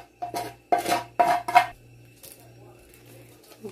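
A cooking pot is handled in a home kitchen, giving a few sharp metallic clanks and scrapes in quick succession, close and fairly loud, followed by quieter clinks against a faint background hum.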